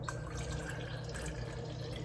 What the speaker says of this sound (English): So now I'm just gonna pour it into another container.